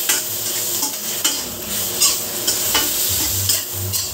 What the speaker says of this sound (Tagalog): lalagyan na natin dahil para maluto agad ito yung ating pork